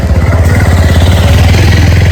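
A loud motorcycle engine runs close by with a steady, throbbing rumble and slight clatter. It passes on the road near Muktinath temple in Nepal, where bike riders travel.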